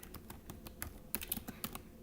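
Rapid keystrokes on a Chromebook laptop keyboard, a steady run of light plastic clicks close up with no talking.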